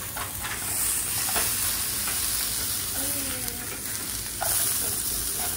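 Food sizzles and fries steadily in a pan on a stove at medium heat, a continuous close crackle with occasional stirring clinks, no talk.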